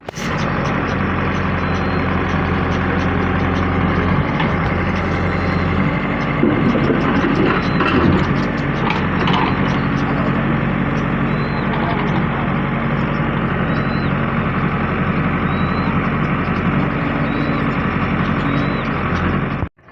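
A JCB excavator and tractor's heavy diesel engines rumble loudly and continuously up close while loading manure, with grinding mechanical noise and a voice faintly under the din.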